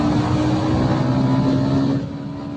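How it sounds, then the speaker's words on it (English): A 2025 TVS Ronin base model motorcycle engine pulling in third gear after 30,000 km, a loud steady droning hum up close that drops slightly in level near the end. "another good thing about the Ronin that has to be said is the third gear"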